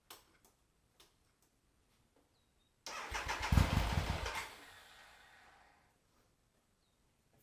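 A carbureted BMW motorcycle engine cranks and catches in a loud, close burst of rapid firing, then fades into a quieter settling rumble, after a few faint ticks.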